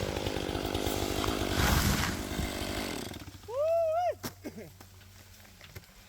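A chainsaw cuts into a tangled oak tree being felled, its loud buzzing roar running for about three seconds before dropping to a rising and falling idle whine near the end.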